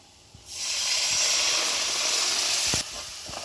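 Vinegar poured onto hot frying onion, chili, green chili and ginger masala sets off a loud, sudden hissing sizzle that holds steady for over two seconds, then drops back to a quieter simmer with faint clinks.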